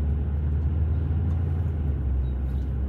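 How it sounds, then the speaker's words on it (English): A car on the road, a steady low engine rumble and tire roar that holds fairly level throughout, close by and without speech. "So this car is going to turn here, and this car is coming out here"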